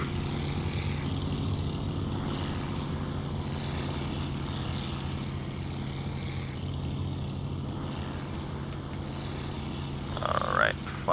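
A propeller aircraft engine in IL-2 Sturmovik 1946 drones steadily and loudly throughout, a constant low hum with a brief change near the end.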